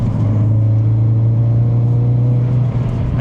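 A car accelerating as it overtakes on a winding North Wales road, a steady low engine drone with a strong rumble from inside the cabin, continuous with no talk.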